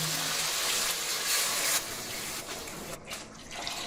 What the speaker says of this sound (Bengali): এবার গরম পানি দিয়ে দেবো।